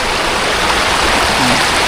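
River water flows in a dense, loud, continuous rushing wash close by, with no speech over it.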